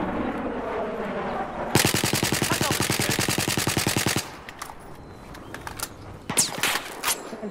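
Sustained automatic machine gun fire in the video game Battlefield 4 rattles out loud and close for about two and a half seconds of rapid even bursts, followed by quieter ambience and a few scattered sharp shots.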